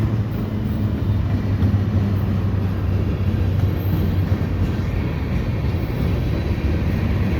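A CPKC freight train rolls steadily past through Dorval in winter, a continuous broad rumble of wagons with a low droning hum, close and even throughout.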